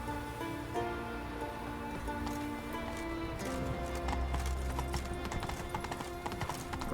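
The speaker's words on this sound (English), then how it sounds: "The Witcher Geralt has fallen to a common mistake with horse riding" Horse hooves clip-clop steadily as Geralt rides through The Witcher 3, the rhythmic clopping close and clear over a low ambient game bed, with no voices.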